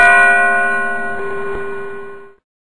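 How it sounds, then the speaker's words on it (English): A single bell struck once, its clear metallic tone ringing on and slowly fading over about two seconds before cutting off, heard alone with no voices. "This to and fro motion of the bell,"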